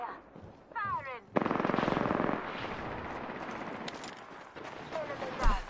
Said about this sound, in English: I'm spotted. Taking fire. Firing.